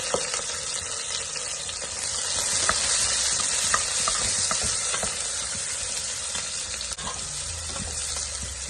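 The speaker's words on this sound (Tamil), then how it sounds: "வெங்காயம் வந்து நல்லா வதங்கிடுச்சு" Sliced onions with green chillies fry in a pan for ghee rice, giving a continuous bright sizzle broken by intermittent stirring scrapes and taps, close and steady, with no voices.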